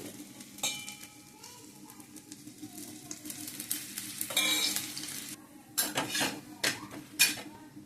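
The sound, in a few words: cucumber thalipeeth frying in oil on pan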